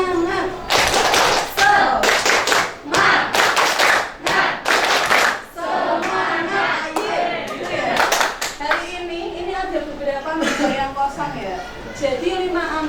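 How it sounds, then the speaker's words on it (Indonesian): A school class performs a tepuk semangat clapping chant, bursts of sharp, rhythmic hand claps alternating with children's voices chanting together, close and loud in a classroom. "Nanti kita tepuk semangat."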